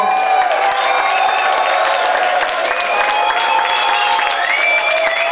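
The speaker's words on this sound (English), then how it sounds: "give him a great round of applause" Reggae club audience at a live band concert in Amsterdam's Melkweg applauding the drummer, loud continuous clapping with cheers and whoops from a dense crowd.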